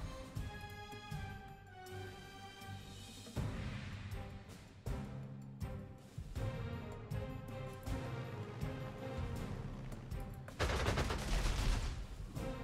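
Artillery bombardment in the strategy game Panzer Corps 2: repeated sharp, thudding gunfire bursts in uneven volleys over a steady musical backdrop, fairly quiet overall with a louder cluster near the end.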